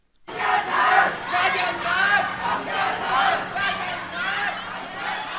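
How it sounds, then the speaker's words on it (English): An angry crowd lining a big boulevard shouts and yells insults at police, a dense, surging wall of many raised voices that swells and falls in rough waves and keeps going to the end. "Crowds on both sides of this big boulevard, with the police in the middle, yelled all manner of insults at them."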